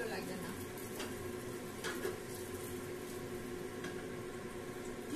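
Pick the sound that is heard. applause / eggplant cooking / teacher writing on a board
eggplant cooking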